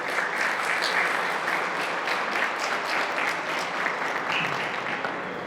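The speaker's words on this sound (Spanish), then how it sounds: "Un fuerte aplauso" Sustained, even applause from a large audience at an education conference in Mexico, a continuous wash of many hands clapping at moderate volume without pauses.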